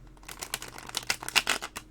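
Tarot cards from a dark wood deck being shuffled by hand, a quiet run of soft papery slaps and riffles in irregular bursts, close and alone without speech.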